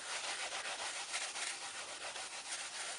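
Cloth or brush dusting a varnished painting's surface, a soft, close, steady rubbing hiss with gentle repeated strokes, quiet and alone.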